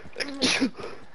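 A single sharp human sneeze during a live online zombies game session, close and fairly loud, standing alone over a faint background.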